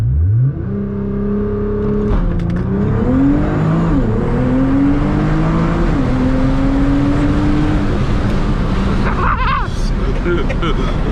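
A Nissan GT-R with a V6 launches hard, its engine climbing through rising revs and several gear shifts in a loud, sustained surge from inside the car, with voices heard over the roar.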